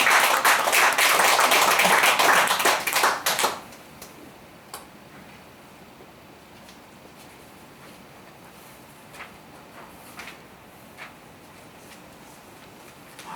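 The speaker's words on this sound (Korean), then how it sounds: "앵콜은 박수 쳐야 됩니다." A church audience at a worship concert in Pyeongchang claps for an encore, a loud burst of applause for about three seconds that stops abruptly, followed by near silence with a few scattered faint claps.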